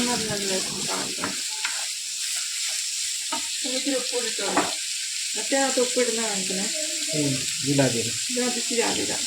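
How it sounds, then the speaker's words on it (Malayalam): Onion, garlic and ginger sautéing together in a pan, a steady sizzle with scraping stirs, while someone talks over it almost the whole time. "ഉള്ളി വെളുത്തുള്ളിയും ഇഞ്ചിയും കൂടെ ഒന്നിച്ചിട്ട് കൊടുത്തിട്ടുണ്ട് കേട്ടോ. ഇത് നമുക്ക് നല്ലപോലെ ഒന്ന് വഴറ്റിയെടുക്കാം."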